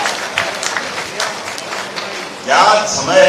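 Loud applause from a political gathering crowd celebrating an election win in Madhya Pradesh, steady dense clapping that swells louder toward the end, with voices mixed in.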